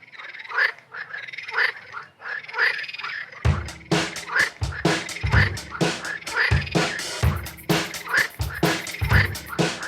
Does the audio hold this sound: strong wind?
no